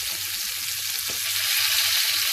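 Salmon pan-searing skin-side down while being pressed flat in the pan gives a steady, close sizzle with a soft crackle, alone and unbroken for a couple of seconds.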